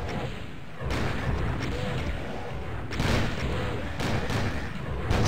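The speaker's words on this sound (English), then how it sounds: "Oh, rocket launcher." Rocket launcher fire in a Doom-style shooter level, a dense run of booming blasts and explosions layered under continuous game noise, loud and close, with several sharp surges.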